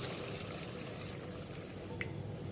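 Tender coconut water is poured into a pan of sev bhaji curry with curry leaves and coriander, making a steady, even pouring wash with a single small drip-like tick near the end.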